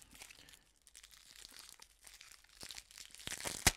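Cellophane wrapping crinkles and tears as decks of game cards are pulled open, bursts of crisp crackling rising in intensity toward a sharp final rip, close and fairly quiet with no talk.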